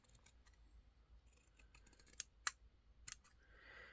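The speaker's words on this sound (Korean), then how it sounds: "가위는 좀 잘 되는 거 사용하셔야 되겠죠" Sharp scissors cut ribbon fabric into petals for a handmade carnation brooch. A few crisp, separate snips sound close up against quiet handling noise, with no talking.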